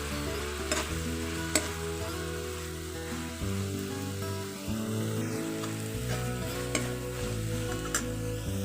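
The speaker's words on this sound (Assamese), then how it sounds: "আদা নহৰু ভুনা হৈ গৈছে। এতিয়া দিম মই বিলাহীখিনি, কাটি ৰখা বিলাহীকণ দি দিলোঁ।" Chopped tomatoes go into a pan of frying ginger and garlic, a steady loud sizzle with stirring scrapes and a few sharp clicks from the utensil, close up.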